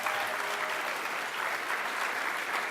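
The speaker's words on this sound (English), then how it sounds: "They deserve another huge round of applause for making this happen." A large audience gives a sustained, even round of applause at an event, with dense clapping that holds steady throughout.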